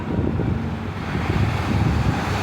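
Steady wind rushes outdoors beside open water under an open sky, a loud continuous buffeting roar with low rumble and no speech, holding evenly throughout.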